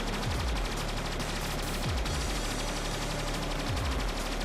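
A laser weapon fires continuously in the Nintendo Switch shooter Stellar Interface: a dense, loud stream of rapid shots with descending zaps every second or two, and no talking.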